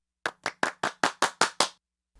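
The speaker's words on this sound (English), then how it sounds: "And then we have a little clap loop right here also." A sampled clap loop from the Sour Candy kit, eight crisp, evenly spaced claps in a steady rhythm, each with a short decaying tail, then a brief silence.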